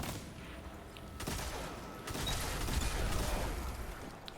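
Thunderlord machine gun fire from the Destiny video game, a dense, sustained burst of rapid shots that runs continuously and loud, swelling slightly toward the end with no voices over it.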